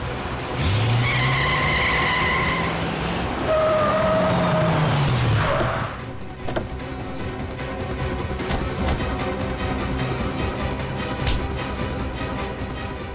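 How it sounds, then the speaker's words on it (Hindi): Cars in a high-speed chase, tyres squealing with rising and falling pitch for several seconds, then a steady roaring engine rumble as the vehicle races on, loud and close. "गाड़ी तेज चलाओ पंकज, और तेज।"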